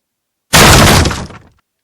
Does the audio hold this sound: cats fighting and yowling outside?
no